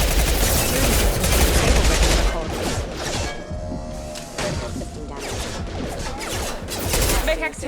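Gunfire in the Mass Effect 2 video game: dense, continuous volleys of weapon fire and impacts in a heavy firefight, loud and close, with a voice speaking over the shooting.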